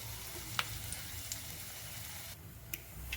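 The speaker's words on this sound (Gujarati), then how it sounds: "આ મેં વઘાર માટે તેલ મૂક્યું છે જો આપણો વઘાર આવી ગયા છે વઘારમાં જીરું અને આ લાલ મરચાં નાખ્યા છે" Cumin seeds and dried red chillies sizzling in hot oil for a tempering, a steady close crackle and hiss with a few sharp pops, no speech.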